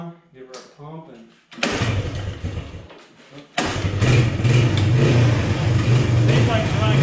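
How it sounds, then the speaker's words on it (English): Suzuki engine with a refitted carburetor and new spark plug, pull-started: brief talk, a pull that catches and runs roughly, a short dropout, then a second start into a loud, steady, close idle. "We're gonna give it our first pull and see if this thing will fire off."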